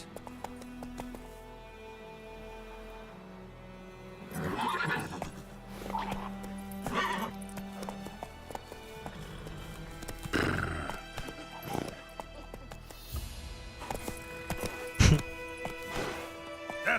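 Roach, the horse in the Witcher 3 video game, clip-clops along in a steady rhythm, with several loud neighs and whinnies and a sharp thud near the end, over a faint game backdrop.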